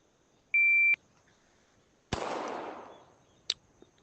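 A shot timer gives a single sharp electronic beep on a shooting range at 7 yards. A loud gunshot follows about a second later with a long decaying echo, then a short sharp click.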